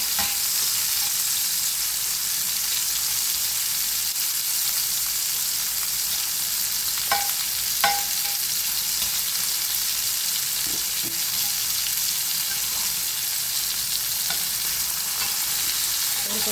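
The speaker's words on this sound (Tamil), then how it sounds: "இறைச்சி பொரிச்ச பட்டர்லேயே வெங்காயத்தை நான் பொரிச்சு எடுக்க போகிறேன்." Onions frying in butter left over from cooking meat, a steady soft sizzle in a pan with a few light stirring clicks, close and even throughout.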